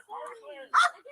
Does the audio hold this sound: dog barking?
yes